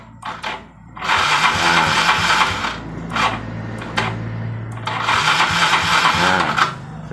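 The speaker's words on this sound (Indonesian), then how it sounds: "Terus kita coba double starter." Electric starter of a Yamaha Mio 125 fuel-injected motorcycle cranking the engine in two long whirring bursts, each lasting about two seconds, close and loud, with a short pause between them.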